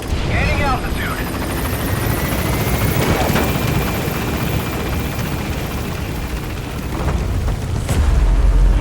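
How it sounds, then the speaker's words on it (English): A helicopter lifts off in the video game Metal Gear Solid V: The Phantom Pain, a loud continuous rotor and turbine roar with a rising whine, under radio-style voice chatter, with a thud near the end. "Get on the chopper."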